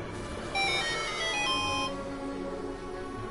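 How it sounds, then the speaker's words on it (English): A phone ringtone going off, a short melodic electronic chime sequence of bright tones over game background sounds, moderately quiet. "My phone tattled on me"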